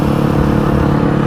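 A Yamaha WR250F motorcycle engine runs on its first ride after repair, a loud, steady, close drone with no talk.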